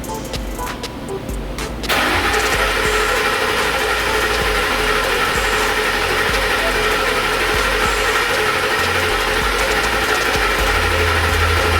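A 2008 Ford F150 engine cranks over without firing after a timing chain and oil pump replacement, a steady loud mechanical churn with rhythmic whirring that starts abruptly after a quiet moment and holds to the end.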